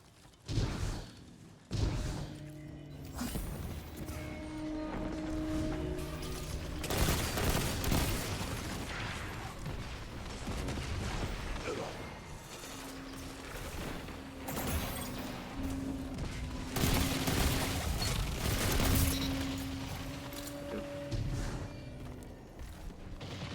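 Rapid bursts of video game gunfire crackle through a busy, continuous game soundtrack, with thumps and whooshes mixed in at steady loudness and no talk over them.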